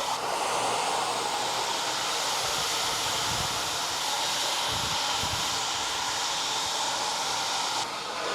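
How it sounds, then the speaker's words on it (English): Hair dryer blowing on a child's curly hair while it is being styled, a steady loud whooshing roar of air that runs unbroken and close for the whole stretch, then cuts off near the end. "hair dryer, the air coming down and flat, will keep it flatter."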